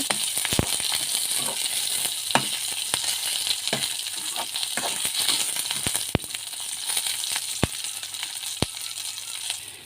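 Ingredients frying in hot oil for a ridge gourd peel chutney, a steady close sizzle with scattered sharp pops and clicks of stirring throughout, no voices.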